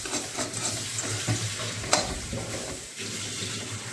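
Fresh green chickpeas roasting in a pan, giving a steady close sizzle and rustle as they are stirred and shaken. A brief sharper knock cuts through near the middle.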